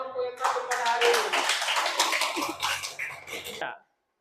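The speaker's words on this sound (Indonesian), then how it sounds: "Berikan aku tepuk tangan untuk semua kelompok yang tampil pada hari ini." Students applaud the groups that performed in an Islamic religious education class, a burst of mixed clapping with voices under it, lasting a few seconds before stopping abruptly.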